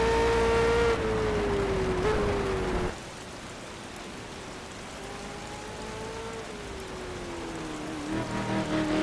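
Heavy rain hisses steadily in Project CARS during a wet thunderstorm at the Nordschleife. A V8 Supercars Ford Falcon's engine whines beneath the downpour, its tone rising and falling between gear changes.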